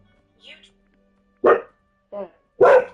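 A dog barking in a few sharp, loud bursts spaced across a couple of seconds, with a person's voice briefly heard between them.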